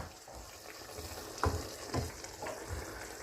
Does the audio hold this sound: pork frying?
yes